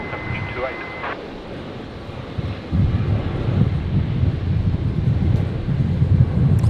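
A QantasLink airliner rolls for takeoff at Brisbane airport, bound for Townsville, a broad low engine roar that swells and holds, heard from a distance with wind buffeting the microphone and talk over the top.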